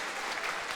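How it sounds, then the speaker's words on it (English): Dense applause from an esports tournament crowd at The International, a steady wash of clapping that fills the whole short moment. "a big round of applause for Complexity as they're getting out of the booth."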